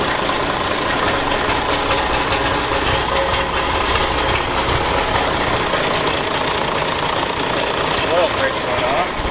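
A John Deere 4020 tractor's diesel engine, idle for two years and leaking fuel, runs in a steady rough idle close by, a continuous throbbing mechanical drone with no pauses.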